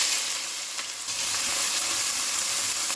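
Close, loud, continuous sizzle of onions frying in hot oil with whole spices, a dense crackling hiss with faint stirring scrapes and no talking.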